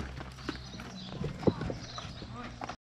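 A mare's hooves trot and clop on a vaquejada track at a Brazilian cowboy event, a steady near rhythm of hoofbeats under excited talk and shouting, with one sharper thud midway.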